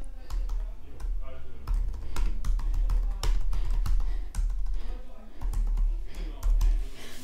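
Clicks of a computer keyboard being typed on while a pop-up is set up in affiliate marketing tools, a steady run of keystrokes mixed with talk across the whole stretch.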